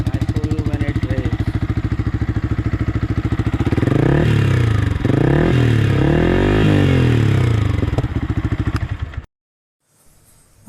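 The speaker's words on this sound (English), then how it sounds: "So this is what it sounds when the bike is on steady." A Yamaha R15 V3 motorcycle with an Akrapovic exhaust idles nearby with a deep, throbbing exhaust rumble, briefly swelling midway before cutting out, followed by a moment of near silence.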